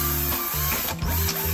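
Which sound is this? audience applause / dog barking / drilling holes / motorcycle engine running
drilling holes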